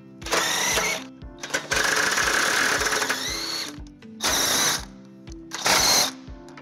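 A power tool whirs in several short bursts of a second or two each, separated by brief pauses, as bolts are removed from the bumper beam of a 2019-2025 Subaru Ascent during a trailer hitch installation.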